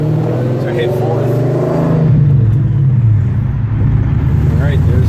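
A 2017 Dodge Challenger Scat Pack with a manual transmission, in fourth gear at about 1500 RPM, makes a deep droning engine rumble from inside the cabin that swells partway through and stays loud and steady.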